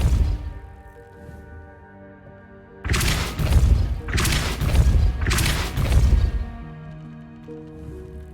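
Depulso spell impacts in a Harry Potter video game land as three heavy, booming crashes in quick succession over a soft musical background.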